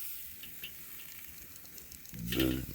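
Thick, small beef eye round steaks sizzle on a grill over a strong flame, a steady hiss swelling louder toward the end as fresh crackling and spitting kicks in.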